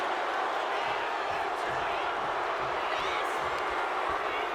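A dense wrestling-arena crowd roars continuously in WWE 2K25 during a Nia Jax match, a steady wash of cheering with scattered claps and shouts, loud and unbroken, with a commentator talking over it.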